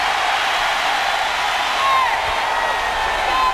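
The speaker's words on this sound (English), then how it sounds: "Oh, the crowd loves it." A stadium crowd cheers and roars at a 2002 Alabama at Oklahoma college football game. The broad, steady wall of crowd noise holds throughout and swells slightly partway through, with a commentator talking over it.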